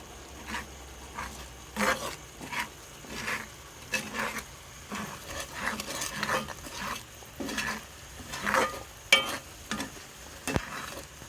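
An egg frying in a pan of fried rice while it is stirred, with repeated scraping strokes and soft sizzling close up, rising and falling in irregular bursts.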